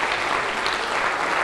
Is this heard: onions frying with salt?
no